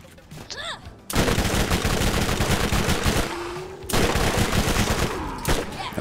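Rapid bursts of gunfire sound in Borderlands, loud and close, in two dense volleys separated by a short pause. Brief quieter moments come before and between the bursts, and no speech is heard.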